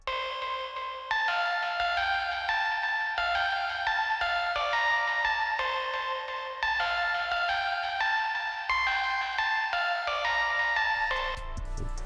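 A bright Serum software synthesizer plays a repeating melodic pattern of sustained, buzzy chords from two saw waves with distortion and delay, steady and loud, with no voices.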